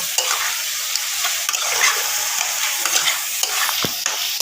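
Fried potato pieces are stir-fried in hot oil in a pan for a mango chicken curry, giving a steady close sizzle with repeated scraping stirs of a spatula and no talking.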